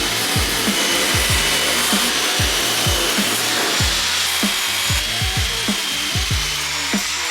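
A piece of aluminum for a BMW E28 front splitter is being cut, giving a continuous harsh rasping noise with quick, rhythmic strokes repeating steadily and loudly, with no talk.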